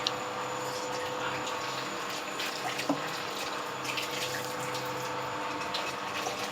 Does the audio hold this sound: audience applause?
no